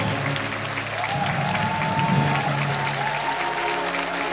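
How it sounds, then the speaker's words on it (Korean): A church congregation in Yongin applauds Korean War veterans at a memorial thanksgiving service, a steady dense wash of clapping from a large crowd, with a voice calling out briefly over it. "우리 참전 용사 여러분에게 존경의 큰 박수를 한번 보내주시기 바랍니다"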